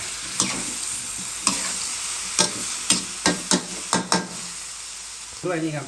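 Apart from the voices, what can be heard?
stir-frying eggplant with pork belly and soybean paste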